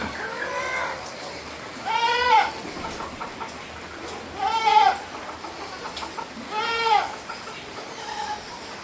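A goat, one of several offered for sale in Malappuram district, Kerala, bleats loudly three times in evenly spaced cries, each a wavering nasal call, with quiet farmyard background between them.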